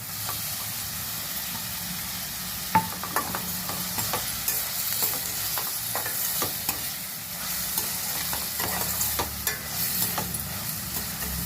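Prawns and green chillies frying with okra in a pan: a steady, even sizzle and hiss throughout, broken by scattered scraping and clinking stirring noises, with no voices.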